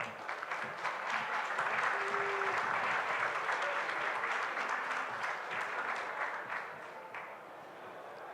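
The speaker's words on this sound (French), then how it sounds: "Vous pouvez l'applaudir bien fort." A conference audience at a Paris space event applauds warmly, a sustained dense burst of many hands that stays full before easing slightly toward the close, with a faint voice briefly audible underneath.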